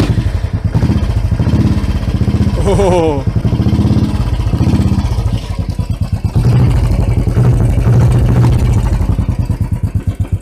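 A Royal Enfield motorcycle fitted with an aftermarket silencer thumps steadily at idle close by, a low pulsing beat with brief blips of revving, while someone speaks over it.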